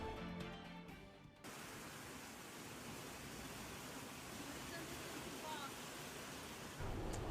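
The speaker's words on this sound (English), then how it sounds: "Listen to that rain coming down." Heavy rain pours down during a thunderstorm at evening in Krivets, a steady dense hiss that stays loud throughout, with a brief different texture at the very start and a slight rise near the end.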